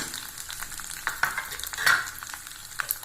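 Peanuts and asafoetida fry in hot oil for tamarind rice, giving a close, crackling sizzle with a few sharper pops and the light scrape of stirring.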